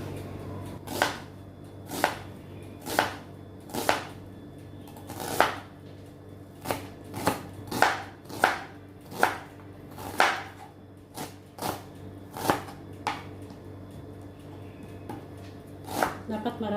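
A knife chops onion into small pieces on a board, producing a steady series of crisp, close strikes, roughly one per second, with a voice talking underneath.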